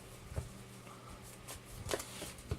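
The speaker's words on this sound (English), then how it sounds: "Next, you will want to shuffle your deck to the best you can" A deck of Vanguard trading cards being shuffled by hand: a few quick, crisp riffling bursts with soft papery clatter between them, close and fairly quiet.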